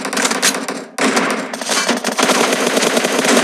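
Sustained automatic gunfire in the shooter game PUBG, dense rapid bursts that are loud and close, with a brief break near the start before the firing resumes and continues steadily.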